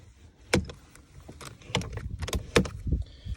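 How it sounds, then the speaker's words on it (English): Gearstick of a 2014 Vauxhall Insignia automatic being shifted through the gears after a knob replacement, giving a few sharp clicks and clunks spaced irregularly, close by and fairly quiet. "Going through the gears perfectly fine."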